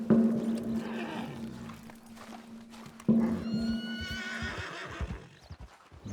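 A horse in the video game Red Dead Redemption whinnies loudly twice, with hoof clip-clops and rustling in between, the second neigh shrill and trailing off.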